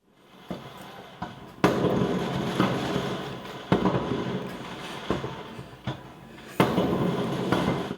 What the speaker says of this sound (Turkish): Göstericiler polise havai fişeklerle saldırdı.